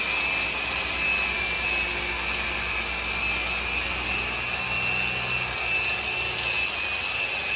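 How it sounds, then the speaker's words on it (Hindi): Buffing machine polishing stone stairs, a steady loud whining motor hum with high tonal whine, continuous and close throughout. "ये जो है ना ये बफिंग कर रहे हैं और ये मेंशन पॉलिश लगा रहे हैं"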